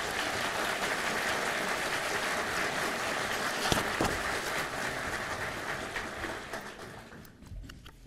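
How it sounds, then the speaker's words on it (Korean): Staff at a justice minister's inauguration ceremony applaud the acting vice minister, a fairly faint, even wash of clapping from a large room that eases off toward the end. "박수 한번 보내주십시오."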